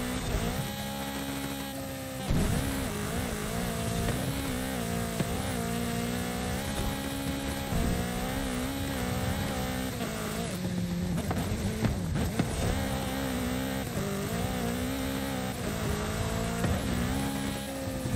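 Cars racing in Forza Horizon 5, a Hot Wheels Mustang and a Porsche among them: continuous loud engine roar with rising and falling revs through gear changes, steady for the whole stretch, no voices.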